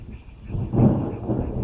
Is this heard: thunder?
yes